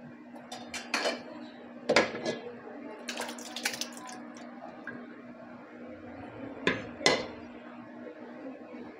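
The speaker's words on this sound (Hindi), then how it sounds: "अब जो सारा मसाला और हमारी जो ग्रेवी है वो हम इस तपेली में ऐड कर देंगे" Masala gravy for mutton biryani is tipped into a metal cooking pot, with scattered clanks and scrapes of a spoon against the pot rim and a couple of wet, splattering pours, near and moderately loud.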